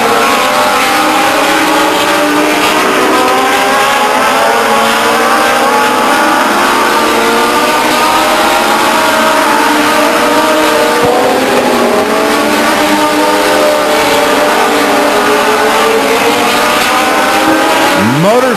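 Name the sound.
Legends race cars with motorcycle engines racing on speedway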